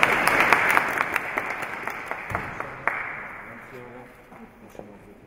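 Audience applause at an Easter palm contest awards, a loud burst of clapping with sharp individual claps that gradually fades, with a voice beginning to speak near the end.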